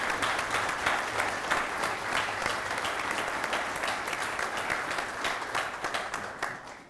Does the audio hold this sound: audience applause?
yes